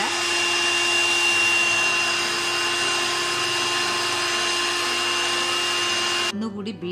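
An electric hand beater whirs steadily through a condensed milk ice cream mixture for pista ice cream, a loud continuous motor drone that cuts off near the end, leaving faint kitchen noise.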